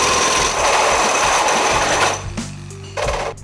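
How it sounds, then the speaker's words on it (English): Reciprocating saw fitted with an unsuitable blade, buzzing fast and harsh through material with a rapid chattering stroke, loud and close, cutting out briefly then revving again near the end, no talking. "We don't really have the right blade on our reciprocating saw"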